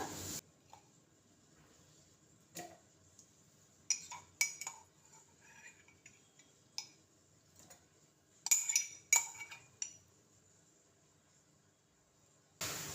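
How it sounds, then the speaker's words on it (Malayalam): Soaked cashews, almonds and pumpkin seeds go into a mixer jar with scattered close clinks and taps of spoon and jar. Short knocks come in separate bursts, some in quick clusters, against near silence. "നമുക്കിതൊരു മിക്സിയുടെ ജാറിലേക്ക് ഇട്ട് കൊടുക്കാം"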